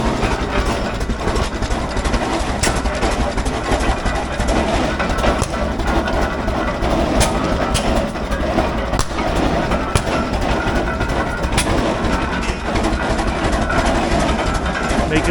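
Antique engine-driven drilling rig running at a tractor show, with a steady, continuous mechanical chugging and rumble that stays loud and even throughout, along with a busy outdoor background.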